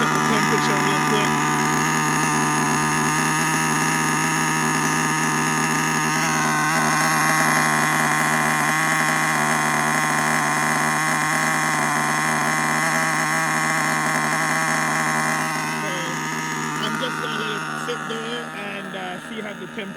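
An HPI Savage GTXL-6 with an F5.9 nitro engine idles during break-in, giving a steady, buzzy, high-pitched whine that holds close and loud before easing off slightly near the end.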